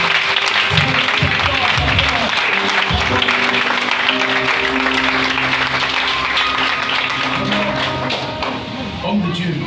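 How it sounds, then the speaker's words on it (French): Congregation applauding at a thanksgiving church service, a dense continuous wash of clapping that stays loud throughout, with voices and music mixed underneath. "On peut acclamer."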